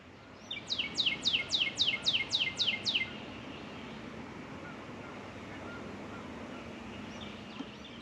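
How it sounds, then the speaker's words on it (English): A bird sings a fast series of about eight bright, descending chirps close by on a gloomy morning at a truck campsite, then falls silent, leaving a soft, steady background hush. "Birds are happy this morning."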